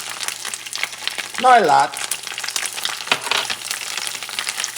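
Chopped onions sizzle in a large pan with a steady broadband hiss, while a voice speaks briefly over the frying.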